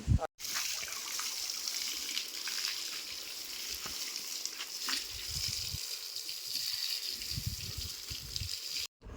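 Water trickles and splashes softly and steadily while buffaloes are bathed, fairly faint, with occasional louder pours and low thuds in the background.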